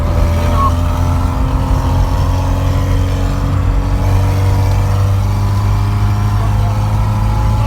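VAZ 2101 car engine running loud and steady, a continuous close-up rumble with no pauses, as if idling or driving.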